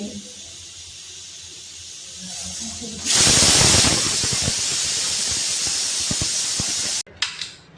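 A pressure cooker used for a Sunday mutton curry opens with a loud, sudden burst of hissing steam that runs steadily for several seconds before cutting off abruptly, followed by a brief clatter.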